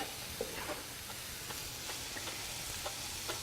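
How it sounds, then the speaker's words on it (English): Onions thrown into a hot pan hiss and sizzle steadily at close range, with small scattered ticks and pops running through the whole stretch. "I'm going to throw our onions in."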